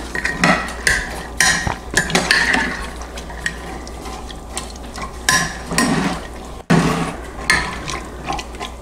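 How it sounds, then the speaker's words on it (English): Baked beans stirred in a pot for traditional Boston baked beans, a spoon scraping and clinking against the pot in irregular bursts, close and fairly loud, with no talking. "I'm going to give that a little bit of a stir."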